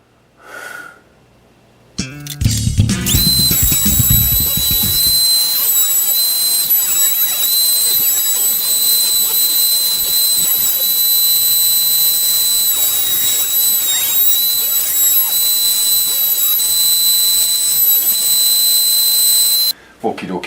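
Router table cutting into a Gazzbass Scarab bass body, a loud steady whine with high tones starting abruptly after a brief thump and running continuously for about seventeen seconds before stopping.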